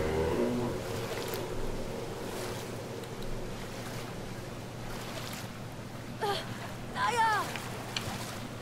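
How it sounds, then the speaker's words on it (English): Water splashing and wash during swimming in the video game Brothers: A Tale of Two Sons, a steady watery rush with wind-like noise throughout and a few brighter splashes near the end. "Alright, now we're swimming."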